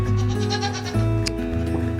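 Goats bleating on a farm, two long, loud, close wavering calls one after another, with no talking.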